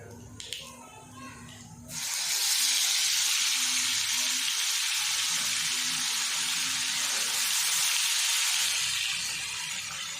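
Ginger garlic paste dropped into a hot pan with a little mustard seed, setting off a loud, close, sustained sizzle that bursts in after a brief quieter moment and holds steady.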